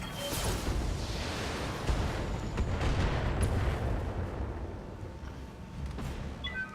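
Heavy weapons fire from mechs in the BattleTech video game, a dense, continuous barrage of booming impacts and rushing whooshes that stays loud for several seconds, with no voices.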